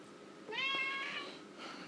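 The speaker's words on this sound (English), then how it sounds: "Cat being noisy." A single cat meow, a drawn-out, wavering cry heard close against a faint background hiss.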